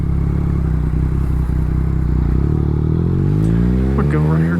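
A 2021 Yamaha MT-09 motorcycle is ridden on the street with a loud, close engine drone. Its pitch climbs steadily as the bike accelerates toward the end.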